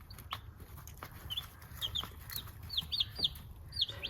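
Backyard hens at a feeder give soft, scattered clucks and short calls, fairly close but quiet, over a low background hum.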